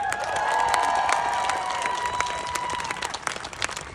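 Steady applause and cheering from a crowd at a rally for trans troops, with scattered whistles and shouts over continuous clapping that swells early and slowly thins toward the end.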